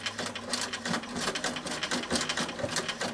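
A sewing machine stitches in reverse on a leather earbud pouch, its needle chattering in a fast, steady mechanical rhythm with slight pulsing, close-up and fairly loud, with no talking.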